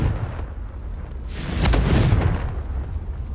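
A Confringo fire spell goes off in Hogwarts Legacy, a broad booming burst that swells in the middle of the clip and then fades back into low rumble, with no talking.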